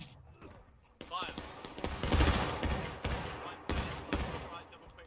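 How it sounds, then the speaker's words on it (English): Musket volley from an infantry line in the War of Rights game, a ragged cluster of sharp gunshots crackling together and then scattered follow-up reports, fairly close, with voices talking around them. "one volley on the unit on the left, and then we're gonna pull that out"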